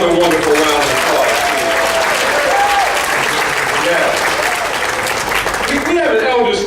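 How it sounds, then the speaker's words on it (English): A conference audience at the opening of the Missouri Institute on Minority Aging gives sustained, loud applause, with a voice speaking over the clapping near the end. "Let's give her another wonderful round of applause."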